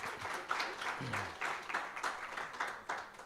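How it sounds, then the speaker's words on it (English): The audience at a South African governance dialogue event gives a round of applause: moderate, fairly regular clapping with an even beat across the few seconds, heard from a little distance. "Round of applause."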